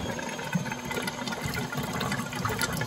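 Water draining from a water heater into a sink, a steady rushing, gurgling flow with a constant mechanical hum underneath, continuous and fairly close, with no voices.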